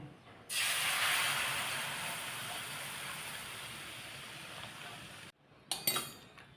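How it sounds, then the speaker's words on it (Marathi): Milk heating and coming to a boil in a pan for rice kheer, giving a steady close hiss for several seconds that then cuts off, followed by a few light clinks. "दूध आता उकळलेलं आहे बघा छान"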